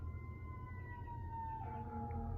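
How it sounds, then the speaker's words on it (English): A siren wails in the distance beneath a low steady rumble, its tone holding and then shifting pitch partway through. "Hear the sirens. Sirens. Sirens."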